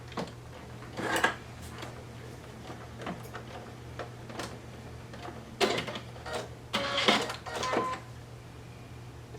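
A sewing machine topstitches a curved seam in fabric at about a 1/8 inch seam allowance. Short, soft bursts of clicking and whirring occur several times over a steady low hum, and brief handling sounds fall between the bursts.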